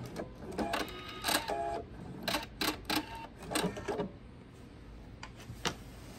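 A sewing machine stitches quilt binding in short bursts of rapid mechanical chatter, several quick runs separated by brief pauses, close and clear with no talking.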